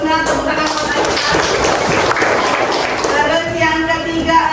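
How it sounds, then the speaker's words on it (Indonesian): A classroom of students claps for a classmate in a dense, continuous round of applause, with a voice speaking over it. "tepuk tangan untuk Akila"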